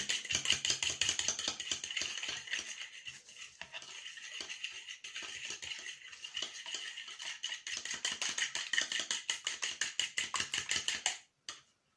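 Rapid, rhythmic clicking and tapping of a fork whisking in a bowl, continuous and close, slowing into a few final strokes before stopping.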